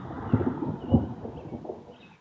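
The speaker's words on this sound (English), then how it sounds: "Thunder in here." Thunder rumbles low and deep, rolling in a few soft surges before fading, heard alone at moderate distance.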